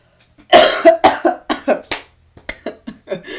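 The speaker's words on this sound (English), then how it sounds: "wait, 1 second, I need a cough." A burst of repeated harsh coughs, close and loud, coming in quick uneven clusters with brief pauses between them.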